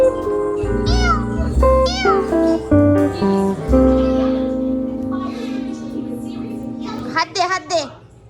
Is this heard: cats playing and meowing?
yes